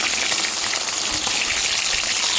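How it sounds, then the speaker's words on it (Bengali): Pabda fish frying in hot mustard oil in a pan, a loud, continuous crackling sizzle that stays even throughout with no voices. "কড়াই তো গরম হয়ে গেছে, দিব সর্ষের তেল, মাছটা ভাজা করবো তার জন্য।"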